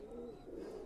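Pakistani Teddy pigeons coo in a soft, low, continuous murmur close by, a steady throaty rumble with no talking over it.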